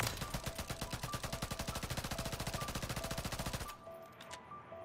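An SMG in a Call of Duty game fires a long, steady burst of rapid shots that quickens as it goes, then cuts off abruptly into a quiet tail with a faint click.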